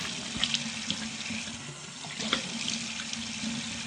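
Tap water runs steadily into a sink for washing hands and face in a small one-room flat in Garia, Kolkata, a continuous splashing stream with a few brighter splashes and no talking.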